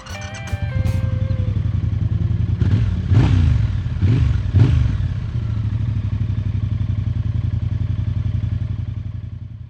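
A 2025 Triumph Speed Twin 1200 RS parallel-twin motorcycle idles with a loud, close, steady throb, gets a few sharp throttle blips that swell and fall back, then settles into its even idle again.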